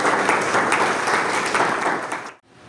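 Audience applause for Maître Henri Doléo at a career panel and goal-setting workshop, a dense, steady burst of many hands clapping that stops abruptly near the end.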